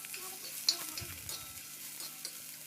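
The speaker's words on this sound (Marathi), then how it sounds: "चांगल्यापैकी कमी तेलामध्ये मस्तपैकी कांद्याला रोस्ट रोस्ट करून घ्या" Onions roast in a little oil in a pan, giving a soft, low sizzle over about three seconds with a few light stirring scrapes.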